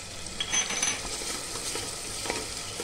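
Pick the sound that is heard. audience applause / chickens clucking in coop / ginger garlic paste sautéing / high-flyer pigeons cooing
ginger garlic paste sautéing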